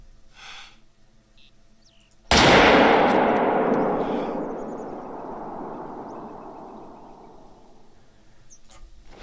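A single loud rifle shot at a bear in the hunting game Call of the Wild, sharp crack followed by a long rolling echo that fades over several seconds over faint insect ambience.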